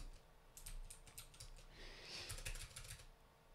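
A password is typed on a computer keyboard while creating a Linux user, a quick close run of light key clicks in bursts with brief pauses and no talk.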